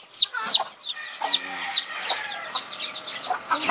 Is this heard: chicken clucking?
yes